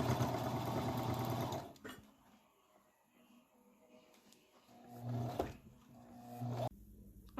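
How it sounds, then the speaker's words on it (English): A sewing machine runs a wide stitch through denim while altering high-waisted jeans, whirring steadily close up for a couple of seconds, then again in a shorter burst after a quiet pause. "with denim, you can do a really wide stitch as it's feeding through"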